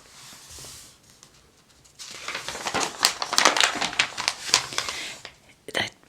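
Stiff pages of a 1970 JC Penney summer catalog are turned close by, a faint rustle followed by loud crinkling, flapping and crackling paper.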